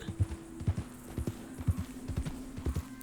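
Horse hooves walking in the Red Dead Redemption 2 video game, a steady, evenly paced clip-clop of hoofbeats, clear and close with no talk over them.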